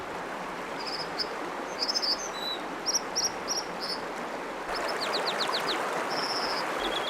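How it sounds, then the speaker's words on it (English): High, sharp bird calls repeat in short bursts over a steady rushing background, like a small bird singing beside flowing water. "the voice of the dipper is something everyone loves"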